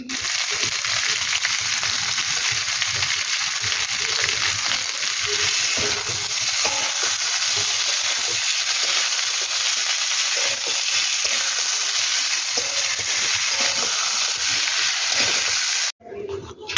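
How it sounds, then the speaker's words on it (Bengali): Chopped tomatoes sizzle and fry in a pan for a paneer curry, a loud, continuous hiss with faint scraping as they are stirred, alone throughout. "টমেটো কুচিটা দিয়ে ভালো করে নাড়িয়ে চাড়িয়ে নিয়েছি।"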